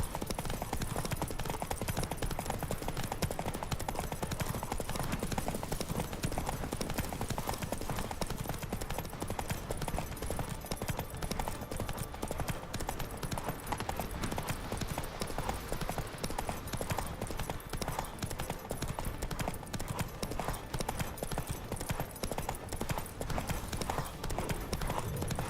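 In The Witcher 3, the horse Roach gallops in a race to Kaer Morhen, a rapid, relentless drumming of hooves over dense rumbling noise, steady and near for the whole long stretch.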